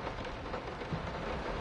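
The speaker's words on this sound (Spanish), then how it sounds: "yo ahora mismo estoy escuchando la lluvia como si estuviese lloviendo aquí" Steady rain in the horror video game Layers of Fear (2023), a soft, even hiss of falling water heard alone and fairly faint for a brief moment.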